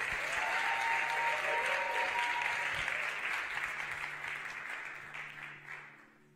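A chapel audience at UVF applauds to welcome Pastor Jonathan Brown, sustained dense clapping from a sizable crowd that holds steady for several seconds before gradually tapering off.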